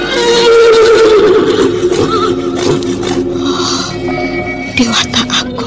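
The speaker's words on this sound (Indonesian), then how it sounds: "Akan kucoba dekati kuda putih itu." A thin white horse gives a loud, drawn-out whinny close by, the neigh rising and trailing off with shaky harmonics, followed by a few shorter snorting calls.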